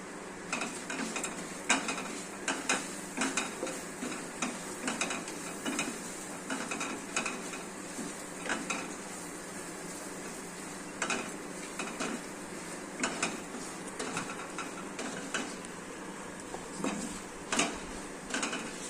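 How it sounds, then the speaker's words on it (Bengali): Spices with a little Kashmiri chili powder being stirred and sautéed in a pan while cooking chal kumro (ash gourd), with irregular scraping and clinking of a spatula against the pan over a soft continuous background, close and moderately loud, no talking. "এবার আমি কষাচ্ছি"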